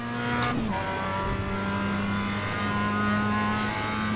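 A Mazda MX-5 race car in iRacing at Okayama holds a steady, loud engine drone close up, with one quick shift of pitch early on and then a constant tone, and no voices.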